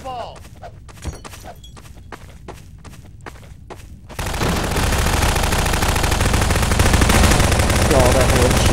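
Gunfire in a Garry's Mod Prop Hunt match starts as spaced single shots and then breaks into a loud, continuous barrage of rapid firing, with voices talking over it.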